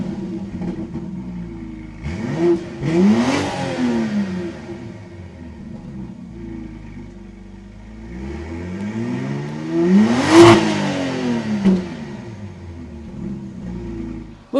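A BMW X3 M50 with a quad exhaust setup revs twice, each blip climbing sharply to a loud roar and falling back to a low, steady idle between them, heard up close.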